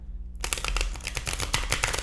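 Tarot cards shuffled by hand after a brief silence, a quick run of crisp riffling flicks and slaps, close and fairly loud.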